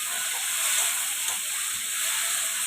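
Tomatoes tipped into hot oil in a pan for bata macher jhal, a Bengali fish curry, sizzling in a steady bright hiss that stays even and close without any voices.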